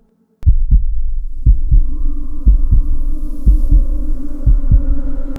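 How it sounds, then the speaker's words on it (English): Heartbeat sound effect, a deep, loud lub-dub thumping in a steady rhythm of about a dozen beats over a low hum, starting abruptly after a brief silence. "his heart pounding in his chest"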